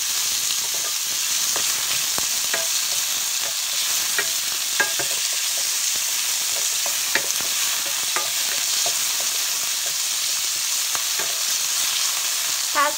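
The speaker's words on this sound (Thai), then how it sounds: "ก็ใส่เนื้อสัตว์ตามชอบลงไปนะคะ" Steady sizzling and crackling of meat stir-frying in a pan, with scattered pops and spatula scrapes, continuous and close.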